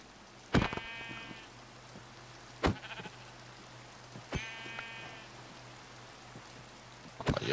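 Sheep bleating in a video game, three or four separate short bleats spaced a couple of seconds apart over a soft, steady rain-like background, with no talk.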